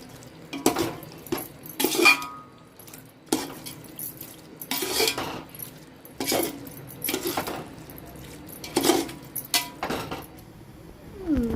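Spoon scraping and clinking against a pot as chicken biryani is stirred, a series of irregular metallic scrapes and knocks at close range with a low steady background hum and no talking.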